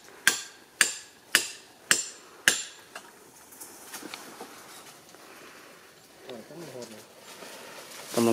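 Five sharp, evenly spaced hammer blows ring out as climbing stakes are driven into a tree trunk during wild honey hunting, followed by quieter outdoor rustling and a voice near the end.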